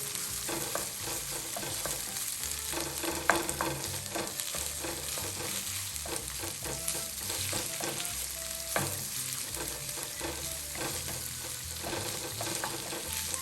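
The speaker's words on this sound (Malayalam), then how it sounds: "ആ സവാളയൊക്കെ ഒന്ന് വെന്ത് വരണ വരെ നമുക്കൊന്ന് ഇളക്കി കൊടുക്കാം" Chopped onions sauté in a pan for palak rice, with a steady sizzle broken by repeated scraping and clinking as a utensil stirs them, close and continuous with no talking.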